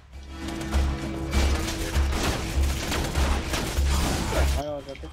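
Repeated pistol and shotgun blasts in the video game Borderlands 2 come in a steady rhythm of loud, punchy shots, with players chatting over the combat.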